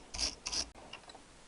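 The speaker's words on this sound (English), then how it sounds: "a quick wire brush, because I don't want no Loctite on this thread" Two short, close raspy scrubbing strokes from a wire brush cleaning a threaded stud on a Triumph T120R motorcycle, followed by fainter small scraping sounds.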